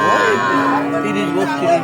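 A single drawn-out cow moo, close and loud, with a harmonic lowing tone that wavers and trails off, from a heifer at a livestock market.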